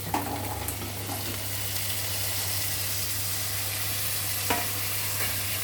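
Carrots and beans with a little mint and coriander being stirred in a frying pan for veg biryani, a steady close sizzle with scraping strokes and a low constant hum underneath, no talking.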